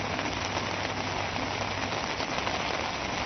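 Heavy monsoon rain in Mumbai pours down in a dense, even hiss, steady and unbroken, with no voices.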